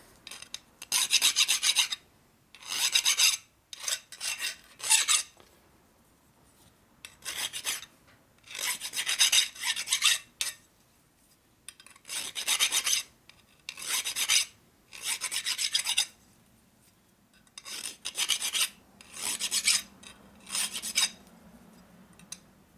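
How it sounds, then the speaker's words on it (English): A hand file rasps back and forth to deburr the flats on a part from a 1972 Harley-Davidson 1000cc Ironhead Sportster, close and loud, coming in repeated bursts of several strokes with short pauses between them and no talking. "Get it flatter like that. Deburr the flats a little."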